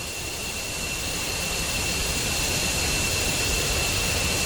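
An F-15C's jet engines in a DCS flight simulator run at taxi power, giving a steady, loud, broadband roar with a constant high whine and no talk over it.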